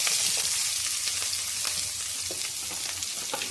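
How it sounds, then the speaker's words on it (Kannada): Onion, curry leaves and chillies fry in hot oil with a loud, steady hiss, with a few soft stirring scrapes breaking through the continuous sizzle. "ನೋಡಿ ಈ ಥರ ಚೆನ್ನಾಗಿ ಫ್ರೈ ಮಾಡೋಣ"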